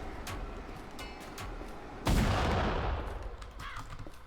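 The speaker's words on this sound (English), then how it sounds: "Different types of explosions have different sound effects and PFX applied to them now." Explosions in the video game ADACA hit as a sudden loud, sharp blast that decays over about two seconds, preceded by quieter crackling game effects, with no talking.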